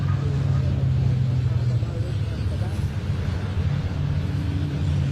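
A DAF racing truck roars around the circuit during a BTRC truck race, a sustained engine drone with a low steady pitch, heard under a commentator's voice.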